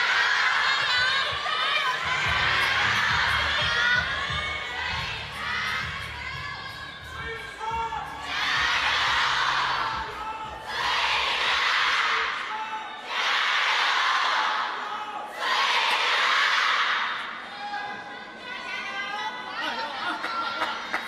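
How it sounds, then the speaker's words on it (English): A packed stadium crowd at a women's singles quarterfinal table tennis match in Singapore shouts rhythmic chants in unison, several loud surging bursts rising above general chatter and announcer talk. "Thousands of people screaming in unison, Shasha Jayo."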